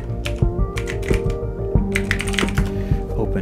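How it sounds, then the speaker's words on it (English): Rapid typing on a computer keyboard, with dense, loud clacking keystrokes in an irregular rhythm, close up and continuous, with no voices. "You can type in Anaconda here and directly open it by clicking here"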